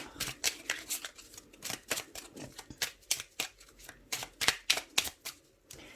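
An oracle card deck is shuffled and cut close up. Quick riffling bursts come in an uneven rhythm, crisp and fairly quiet, with no talking.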